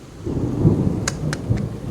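Heavy night rain falls during a thunderstorm in Khambhalia, making a dense, steady roar with a few sharp cracks and rolls of thunder close by. No one speaks.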